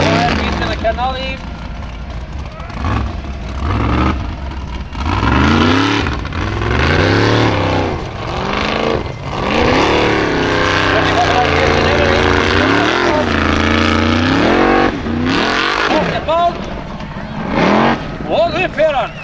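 A Formula Offroad race car from an Icelandic event at Hella strains its engine while climbing a steep hill, revving loudly and continuously with rising and falling pitch, close to the microphone, while a commentator talks over it and a crowd can be heard.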